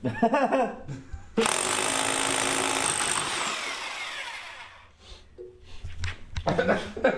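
A hammer drill bores into a concrete garage floor at least three inches thick for a BendPak MaxJax lift installation, one loud sustained grinding run that tapers off, with people talking before and after.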